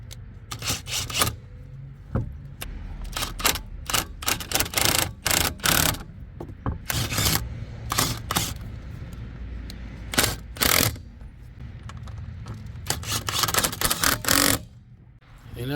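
A car lug nut being tightened, with bursts of rapid mechanical clicking like a ratchet wrench, repeated with short pauses over about fifteen seconds before easing off near the end.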